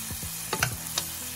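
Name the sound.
strip steak sizzling, basted with butter in skillet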